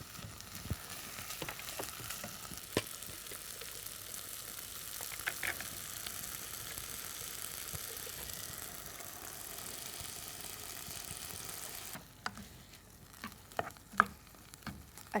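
Chicken with capsicum and onion simmers in a pan in its own juices with sauce added, giving a steady close hiss of sizzling for most of the stretch before it quiets, with a few clinks near the end.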